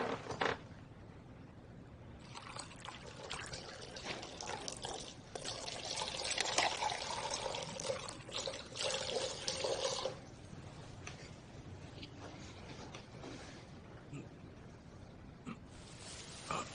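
Cold water pours into a glass in a steady, hissing trickle that swells in the middle and tapers off, heard alone without speech.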